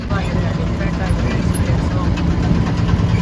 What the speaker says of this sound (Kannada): ನಾವು ಹೋಗೋ ಬೋಟ್ ರೆಡಿಯಾಗಿದೆ ಹೊರಡ್ತಾ ಇದ್ದೀವಿ